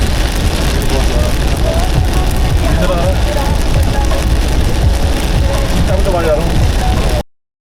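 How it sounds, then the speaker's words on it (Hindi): Heavy monsoon downpour lashing a car driving on an expressway, a loud dense hiss of rain and road noise that continues without a break, then cuts off abruptly. "इसे कहते हैं मूसलाधार मानसून की बारिश"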